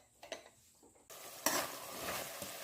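Chopped tomatoes cook in a pan while a spoon stirs them, giving a soft sizzle with faint scrapes at first, then a fuller, louder frying hiss and stirring rustle close by.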